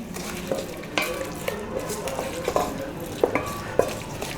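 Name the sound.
stirring chicken biryani with fried onions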